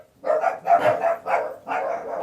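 Dogs barking inside a FIFA 23 career mode game, four sustained, loud bursts of yapping in a steady rhythm with no talk over them.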